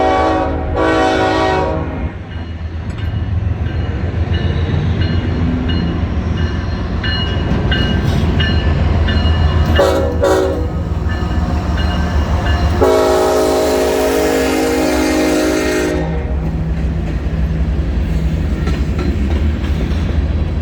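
A BNSF freight train rumbles past close by an old depot, wheels clattering steadily, while its horn blasts several times, a short early honk, then longer loud blows.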